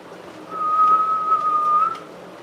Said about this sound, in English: I can barely whistle.